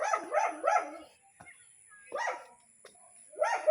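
A dog barks in short bursts, a couple of quick yips at the start and more after a pause, fairly close, with faint voices and small background noises between, somewhere in Marinduque.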